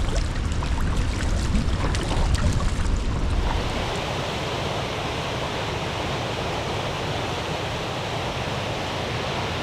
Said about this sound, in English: this is the most boisterous waterfall that I've seen in a long time